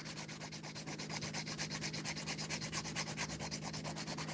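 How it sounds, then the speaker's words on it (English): A hand file rasps rapidly back and forth on acrylic nails, producing a close, even rhythm of quick scratchy strokes, about eight per second, with no talking. "that's why I like shaping with the hand file first"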